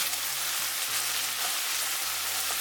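Tomato fried rice ingredients being stirred and fried in a pan, a steady broadband sizzle with soft scraping running continuously and fairly close, no voices.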